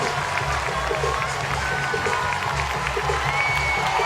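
Softball fans at the Women's College World Series, UCLA against Oklahoma, applaud and cheer a departing pitcher in a steady, busy crowd roar that holds throughout with no break.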